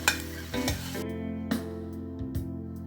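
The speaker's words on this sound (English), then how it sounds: "we're going to cook these vegetables now for about 5 minutes" Vegetables and fresh herbs (rosemary, sage, thyme, parsley) cook in a pot for a beef and sweet potato stew. Soft stirring scrapes and a low sizzle come in a few short bursts, close and fairly quiet, with no talking.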